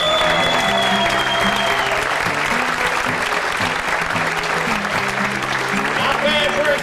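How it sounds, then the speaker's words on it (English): A theatre audience at a magic show applauds loudly and continuously, with dense clapping throughout and a sustained musical tone running underneath. "he'll expect thunderous applause"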